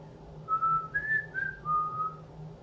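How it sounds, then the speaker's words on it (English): A clear, tuneful whistle serves as a sound effect in a children's bedtime story: a short melody of four or five sustained notes that rise and then fall, played alone against a quiet background. "Father Bear whistled as he tucked him in."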